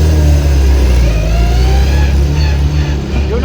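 A Mini's engine idles steadily with a deep, continuous low rumble and slight unevenness, loud and close, with no talk over it.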